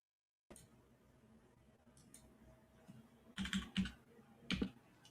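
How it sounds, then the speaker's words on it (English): Light typing on a computer keyboard in a radio studio starts after a moment of silence, with scattered soft taps that build into a few louder bursts of clustered keystrokes, heard alone. "I heard you typing there."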